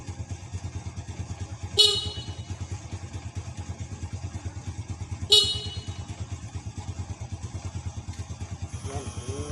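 Two short horn honks from a Honda Wave 100 motorcycle stand out over a steady idling engine rumble, roughly three seconds apart, with a faint voice in the background.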